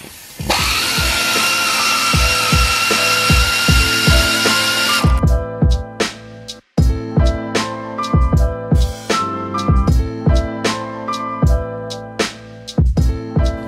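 A battery-powered impact tool removes long rear suspension bolts on a Mk7 Golf, a loud whirring run followed by repeated sharp hammering bursts in steady rhythm, close and without talk.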